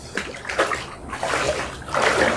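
Water splashes and sloshes in a bath close by, with irregular bursts of splatter and swishing movement that rise and fall over a couple of seconds.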